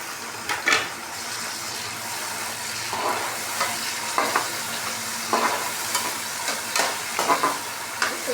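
Tomatoes go into a hot pan for a paneer, capsicum and potato mixed vegetable curry, frying with a steady sizzle while a utensil stirs and scrapes in repeated close strokes.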